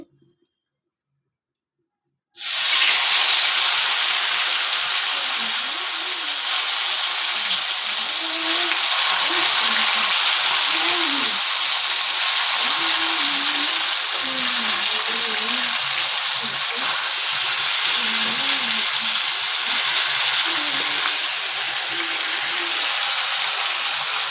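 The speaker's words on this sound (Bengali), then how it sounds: "দিয়ে দিব আমি মাংসটা। আস্তে আস্তে করে ছাড়তে হবে।" Broiler chicken meat dropped into a hot pan of reddened aromatics, a loud, continuous sizzle that begins abruptly after a short silence and holds steady throughout, with faint low sounds underneath.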